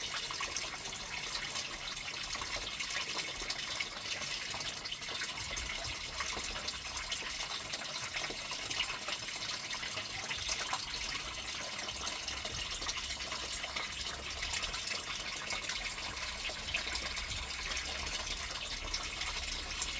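Steady running water poured during gold panning of paydirt, a continuous splashing wash that holds at an even level throughout, with no talk over it.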